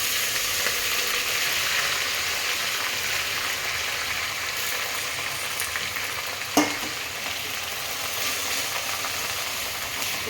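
Spinach and curry leaves sizzle in a hot pan with a steady hissing fry, broken midway by one brief sharp clatter from stirring.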